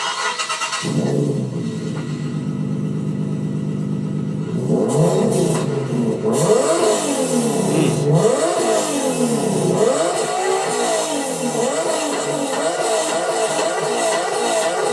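A loud customized JDM car's engine idles with a deep aftermarket exhaust rumble, then revs repeatedly, rising and falling in pitch, close and aggressive.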